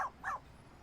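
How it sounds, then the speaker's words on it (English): A tiny, shy Pomeranian lets out two short, high-pitched yaps in quick succession, fairly faint and alone, followed by quiet. "Sorry about the barking, she's just a little shy."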